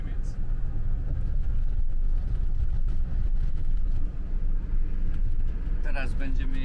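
A new campervan rolls along a highway into Germany, a steady low engine and road rumble from inside the cabin, with a brief chirp near the end.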